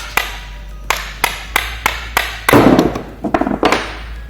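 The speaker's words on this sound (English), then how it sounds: "bash out your old bushing and get ready to install your nice new one" An old suspension bushing is hammered out during a DIY camber bush press job: a series of sharp metallic knocks, evenly spaced at first, then a quicker, louder flurry of blows, close up with no talking.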